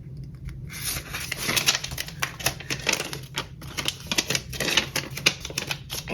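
Tape being pressed and glued down while making a paper lapbook, giving close crinkly rustling and rapid tapping clicks in uneven bursts, with no talking.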